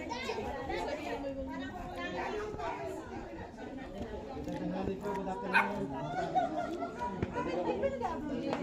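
Dogs bark and yip amid a lively get-together, with children playing and people chattering and talking continuously around them, the barking close and mixed into the crowd noise.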